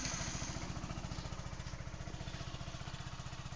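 A motorcycle engine idles after being started, a steady low puttering with an even rapid pulse throughout, close and alone.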